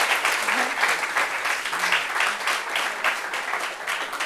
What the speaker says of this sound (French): Donc, qu'est-ce qu'on peut applaudir pour lui?